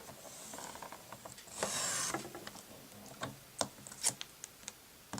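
A paper trimmer slices about an inch off the tail of a paper flower pot shape for a handmade card, heard as a soft rubbing slide followed by a series of small faint clicks, close and quiet.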